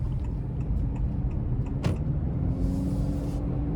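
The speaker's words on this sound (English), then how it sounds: "Now you can hear the CVT kind of keeping a weird idle there" A 2026 Honda CR-V Hybrid Trailsport with a CVT sits idling unevenly, giving a steady low rumble and hum from inside the cabin, with one brief whoosh partway through.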